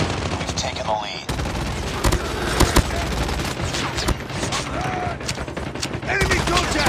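Gunfire in the video game Call of Duty Mobile: several loud, sharp shots and bursts come at irregular intervals over dense game noise, with voices now and then.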